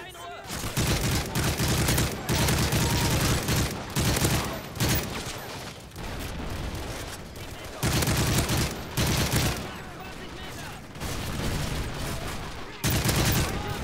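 Rapid bursts of automatic gunfire in Call of Duty Modern Warfare 3, loud and close, coming in long sustained volleys separated by brief pauses, with voices talking in between.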